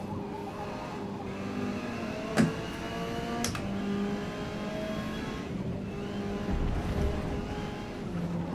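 Touring cars race in a video game, a Honda Civic among them dueling near an Audi, engines droning steadily with a couple of sharp transient clicks and shifting engine tones, no talk.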